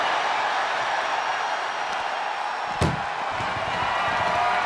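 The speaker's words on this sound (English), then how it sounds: "Trying to force the first door closed." Inside a wrestling ambulance match, a door of the ambulance slams once against constant crowd roar, a single sharp bang partway through amid steady arena noise.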